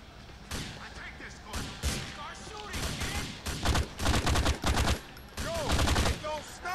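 Rapid bursts of gunfire crackle in a Grand Theft Auto IV: The Ballad of Gay Tony gang drug war, with clustered automatic volleys and sharp single shots coming in irregular groups, loud and close.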